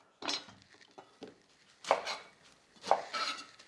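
A medium-sized onion is roughly chopped with a knife on a board: four distinct chops, the last two sharpest and loudest, with brief gaps between them and no talk.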